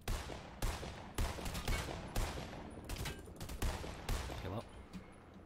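Rapid bursts of gunfire in Fortnite, loud and close, firing in repeated volleys of shots with brief pauses between them; voices talk over parts of it.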